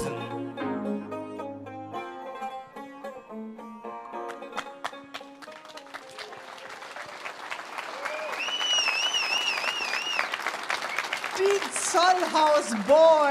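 A concert audience bursts into applause as the music fades, the clapping swelling and growing louder and denser toward the end, with cheers rising above it.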